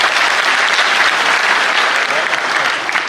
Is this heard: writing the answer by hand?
no